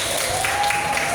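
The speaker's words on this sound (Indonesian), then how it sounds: "Ya, tepuk tangan dulu." Brief burst of classroom applause from students, dense and steady, with a voice faintly underneath.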